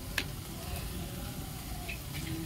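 A spice paste of ground black pepper, chilli, cumin and coriander sizzles steadily as it is fried in a pan, with a soft, continuous crackle and occasional sharper pops up close.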